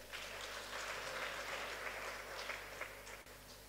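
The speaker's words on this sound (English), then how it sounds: "Clap your hands" A church congregation at a midweek baptism service claps their hands, a soft, distant, steady patter of applause over a constant low hum.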